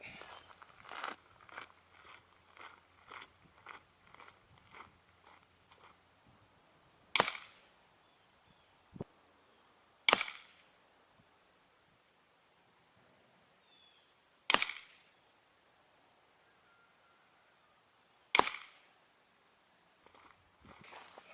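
A Weihrauch HW 44 .22 air pistol fires four sharp, loud shots spaced a few seconds apart outdoors, each a crisp crack, with quieter handling clicks and rustling between them.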